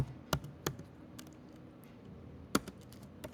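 A few sharp, separate clicks of computer keyboard keys, quiet and close, tapped sparsely over a faint background hiss.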